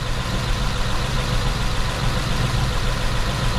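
A 1940 Mercury with a glass pack exhaust and suspected timing issues idles steadily nearby, a loud, continuous low rumble with no talking over it.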